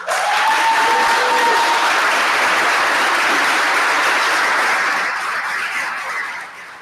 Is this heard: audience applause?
yes